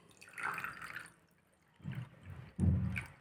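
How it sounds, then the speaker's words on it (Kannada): Water from an oil-and-water mixture being poured into a separate vessel, faint soft gurgling and splashing in a few short bursts with brief pauses between them. "ಈಗ ನಾನು ಈ ನೀರನ್ನು ಇದಕ್ಕೆ ಹಲವಟ್ಟಕ್ಕೆ ಹಾಕೋತೀನಿ"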